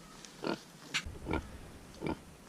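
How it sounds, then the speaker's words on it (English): American Guinea Hog piglets squeal and grunt in four short, sharp bursts spaced about half a second apart, close by and fairly quiet, with no talking. "These little babies are going to grow into some fine baby pigs and some fine big pigs."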